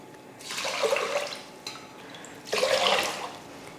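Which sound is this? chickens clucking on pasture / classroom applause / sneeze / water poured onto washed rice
water poured onto washed rice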